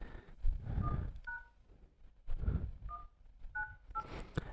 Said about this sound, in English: Coming to dialer here, let me increase a little bit of volume.